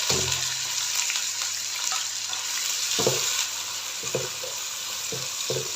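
Chopped onions fry in oil with garlic in a pan, giving a steady, fairly soft sizzle throughout, broken by a few short scraping stirs near the end.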